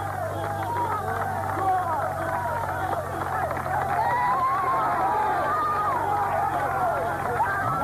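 Roadside crowd cheering a Dutch cyclist on a climb during stage 2 of the 1987 Kellogg's Tour, a steady broad wash of shouts and babble with excited voices rising throughout.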